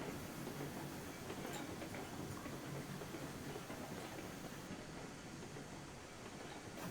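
A freight train rolls along in the railroad video game Railroads Online, giving a continuous, even rumble with a faint clatter that runs the whole time, with no talk over it.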